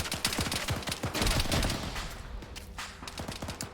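Rapid gunfire in the Arma 3 military shooter, a dense fusillade of overlapping shots and bursts at mid distance, loudest in the first two seconds and then continuing slightly lighter.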